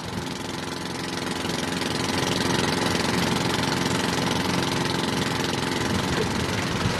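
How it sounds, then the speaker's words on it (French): Engine of a handmade longtail boat at Koh Phi Phi, Thailand, running in a steady loud drone with a rapid chugging pulse that builds slightly and then holds, with no talking. "Le moteur, par exemple. Pour l'enclencher, il faut tirer sur cette corde."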